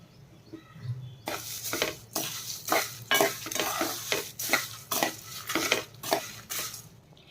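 Tamarind and spices frying in a pan for a drumstick-leaf spice powder: a regular run of brisk stirring strokes, each a short scrape with sizzle, repeated about a dozen times up close.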